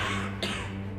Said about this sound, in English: you run the risk of symptoms like cough